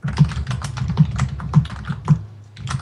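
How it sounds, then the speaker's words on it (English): Heavy typing on a computer keyboard, loud and close, with steady clattering keystrokes and periodic heavier thumps roughly every half second, running throughout with no talking. "my keyboard's that loud"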